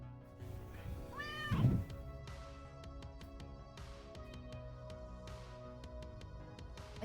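Pet cats meowing, with one clear rising meow early on against a steady background hum and faint scattered clicks, no talk.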